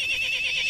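Horse whinny from the video game Jazzpunk, a short, loud, high-pitched neigh heard alone.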